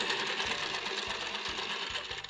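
A sewing machine stitching a duck-bill fabric mask, running in a fast even rhythm of needle thumps, close and alone without talk.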